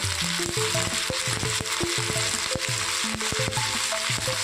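Okra frying in hot oil with a little turmeric for a hotel-style bhindi masala, a loud, dense, continuous sizzle with occasional stirring, music faintly underneath.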